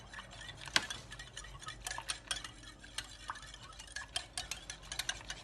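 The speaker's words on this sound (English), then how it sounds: "So I'm gonna add oil to it, the 1 egg, mix them together," Oil and one egg being whisked together in a bowl for spinach and cheese stuffed bread dough, heard as quiet, quick clicking and tapping strokes of the whisk against the bowl, close and steady with no talking.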